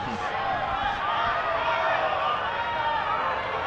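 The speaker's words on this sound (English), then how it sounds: "And some jeers from the crowd as well." Jeering from a crowd at a NISA soccer match between Chicago House AC and Maryland Bobcats FC, a steady broad roar of voices filling the stadium throughout without letup.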